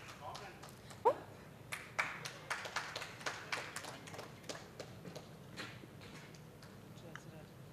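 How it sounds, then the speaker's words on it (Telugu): Scattered audience applause at a solar renewable energy expo, with individual claps ringing out irregularly at moderate distance before thinning out, over a quiet hall murmur. "మీ అందరి చప్పట్లతో వారిని ఆహ్వానించుకుంటున్నాం"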